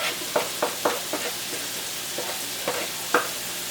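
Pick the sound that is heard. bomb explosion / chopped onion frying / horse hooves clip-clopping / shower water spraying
chopped onion frying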